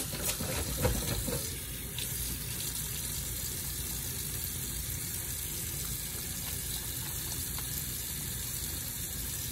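A sink tap runs steadily at a dental office handwashing station, a continuous hiss of flowing water with a brief louder splash near the start.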